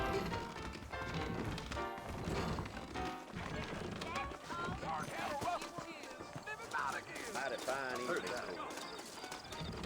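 Horse hooves clip-clop in the Red Dead Redemption Western video game as saddled horses set off on the trail, a steady trotting rhythm beneath spoken dialogue and background game music.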